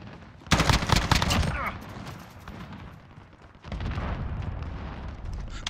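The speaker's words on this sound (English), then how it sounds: "Enemy cruise missile, take cover." A cruise missile strike in Call of Duty Modern Warfare (2019), a loud burst of rumbling blasts and rapid gunfire that fades, then a second heavy wave of explosive rumble, with battlefield noise throughout.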